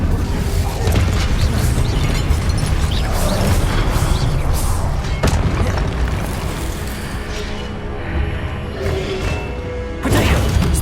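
Incendio fire spell in Hogwarts Legacy: sustained roaring, crackling magical fire with repeated thuds, crashes and mechanical clanks of combat layered over it, loud and continuous for around ten seconds, no voices.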